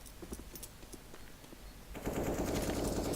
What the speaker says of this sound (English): A lot of gunfire from the Russian side.